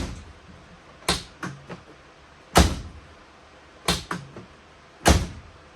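A Polaris Ranger utility vehicle door slammed shut several times, each a sharp close thunk with a quick rattle after it, spaced about a second or so apart and heard up close with no talking.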